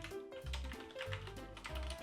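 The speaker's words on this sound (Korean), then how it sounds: "printf 수학 수학 아이 타이핑 오타가 나네요" Typing on a computer keyboard while writing C code, a quick run of light key taps close by, with a low hum and tonal sounds running underneath.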